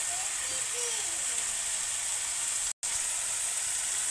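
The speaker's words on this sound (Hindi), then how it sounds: "इसे धीरे धीरे भून लेना है" Spices, Kashmiri chilli and masala sizzle in a pan for a mustard fish curry, a steady close frying hiss with faint stirring scrapes, continuous apart from a brief dropout.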